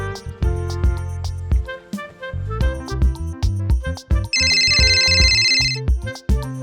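A mobile phone ringtone plays as a bright, tuneful electronic melody, with a rapid repeating trill partway through, loud and close with no talk.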